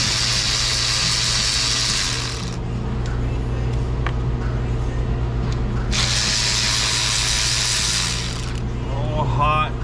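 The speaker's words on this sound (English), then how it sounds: "Let's pull those 2 bolts out next." A ratchet wrench loosening bolts on a car, bursts of loud rapid clicking alternating with pauses, all over a constant heavy engine-like hum and faint workshop background.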